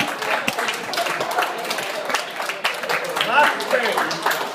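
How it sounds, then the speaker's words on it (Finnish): An audience at a comedy bar claps and applauds, steady moderate clapping running through the whole stretch alongside a voice talking over it. "Vielä hyvät aplodit kerran."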